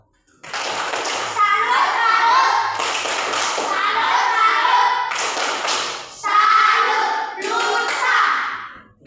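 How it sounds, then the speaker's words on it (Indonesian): Children clap their hands together in a classroom, a dense ragged burst of claps that swells and breaks off in several waves across the stretch, close and fairly loud. "Terima kasih atas tepuk tangan."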